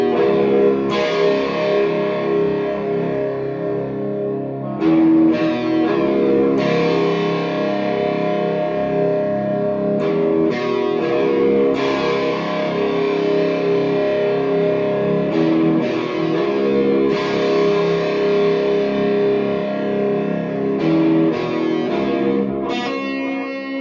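An electric guitar played through a Soundslice FX Critter Driver JCM800 overdrive pedal, gain near one o'clock, rings out in loud, sustained distorted chords with sharp attacks and lingering decay, alone without talk.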